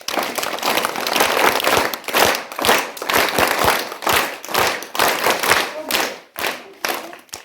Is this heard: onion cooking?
no